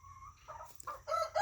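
A hen named Jackie vocalizes in short, close clucks and squawks, a few rising calls in quick succession over faint background noise.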